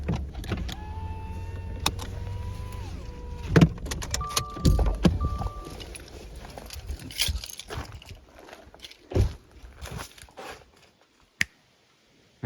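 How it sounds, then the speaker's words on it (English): Car being parked at a rough dispersed campsite for rooftop tent camping: an electric window whirs, then come clunks, key jingles and door or handling thumps up close, trailing into near silence. "I'm gonna find a spot, get the car parked"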